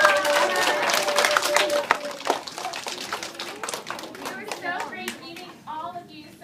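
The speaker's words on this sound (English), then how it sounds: "Give yourselves a round of applause." A group of children clapping in a round of applause, dense and lively at first, then thinning into scattered claps, with kids' voices and cheers mixed in.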